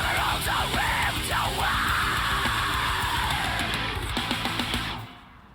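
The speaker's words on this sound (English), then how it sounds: "that scream at the end" High, sustained scream from the female vocalist of a metal band at the end of a song, loud over heavy distorted guitars and drums, with the band cutting out near the end.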